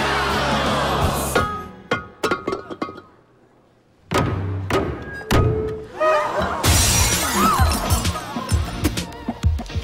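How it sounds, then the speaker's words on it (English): A vase smashed hard by a maid of honor at an Italian wedding in Rome gives several sharp shattering crashes with tinkling glassy debris, mixed with brief loud thuds and lively background commotion. "The maid of honor shatters a vase, and it symbolizes happiness for the bride and groom."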